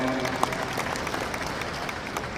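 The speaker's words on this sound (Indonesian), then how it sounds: "Berikan tepuk tangan untuk hukum online." Audience applause at the KAI IV congress in the UMS Edutorium, honouring Hukum Online; a steady, moderate wash of clapping from a seated crowd, fairly even throughout with one sharper clap near the start.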